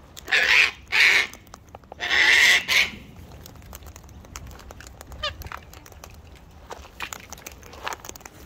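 A wild cockatoo gives a few loud, harsh screeching calls close by, two short squawks followed by a longer raucous one. Quieter rustling and faint sounds fill the rest.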